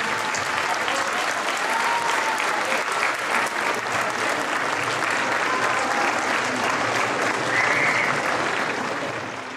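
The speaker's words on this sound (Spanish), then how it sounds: "les pediría un fuerte aplauso para los abogados y para los indiciados" Loud sustained applause from an audience for lawyers and the accused, a dense even wash of many hands clapping for nearly ten seconds, fading slightly at the very end.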